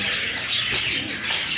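A room of caged pigeons gives off a steady, dense mix of soft cooing and chirping, close and continuous with no talking.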